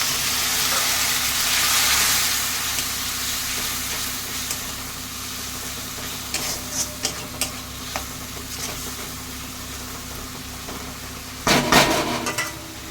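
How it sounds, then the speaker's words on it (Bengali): Spice masala of turmeric, cumin and chili powder frying in a pan for kachki fish chorchori, a steady close sizzle with a run of light stirring taps midway and a louder clatter of the spatula near the end, no speech. "মশলাটা দেখুন আমার ভাজা ভাজা হয়ে গেছে।"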